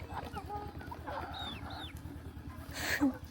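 Live chickens clucking in a busy outdoor market, a few short close clucks and a louder squawk near the end, with people talking in the background.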